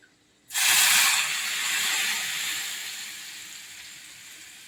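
Garlic tempering dropped into hot oil for a Malvani fish curry bursts into a loud, close sizzle that starts abruptly and then settles into a steady hiss.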